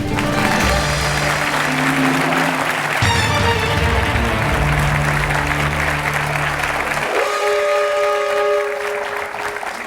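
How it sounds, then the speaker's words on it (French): A studio audience at the French game show Qui Veut Gagner des Millions applauds a contestant, with loud, sustained clapping from a large crowd mixed with show music and swelling stings that cut off near the end. "le public vous applaudit"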